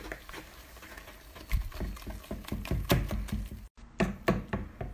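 A whisk beats mineral water and spices in a mixing bowl for crispy chicken, giving quick, uneven knocks and taps with a light liquid slosh. The strokes are close and steady, with one very brief break near the end.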